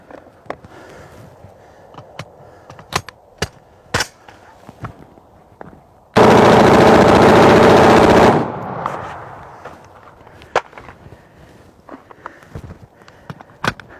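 An AR-15 rifle fires a long rapid burst of about two seconds mid-clip, loud and close, flanked by scattered single sharp shots and clattering handling noises outdoors.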